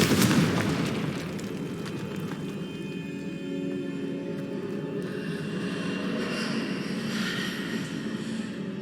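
A fiery Confringo blasting spell in Hogwarts Legacy bursts into a loud opening boom, then rolls into a long, rumbling roar of flame and debris that stays steady and dense for several seconds without speech.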